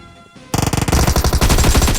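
Loud automatic gunfire from the mobile game PUBG Mobile breaks out after a quiet half second, then keeps hammering in fast, continuous bursts close to the listener.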